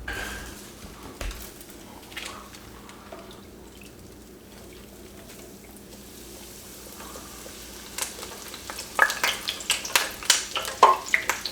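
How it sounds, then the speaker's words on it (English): A breaded, panko-crusted jalapeno popper burger deep frying in hot oil, with a low steady bubbling that swells into louder crackling and popping toward the end. "I'm going to drop her in the deep fryer"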